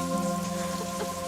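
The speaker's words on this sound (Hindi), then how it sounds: "इस बारिश में मेरे आंसू तुम्हें नहीं दिखेंगे" Steady rain falls throughout in a Bollywood film scene, a continuous even patter of drops with no voices.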